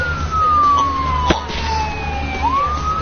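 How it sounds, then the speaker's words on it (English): An ambulance siren wails nearby, its tone sweeping slowly down and then rising again as it passes, loud over low traffic rumble. "When you hear that go by my house, that's an ambulance."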